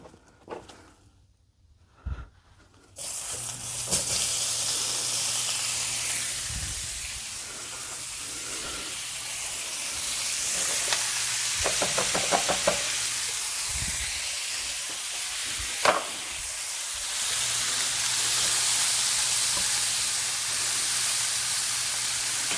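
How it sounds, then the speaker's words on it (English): Chopped onions frying in about a teaspoon of oil in a pan over raised heat, a steady loud sizzling hiss that swells after a quiet start, with occasional small clinks. "add about a teaspoon of oil, and put all them onions in there."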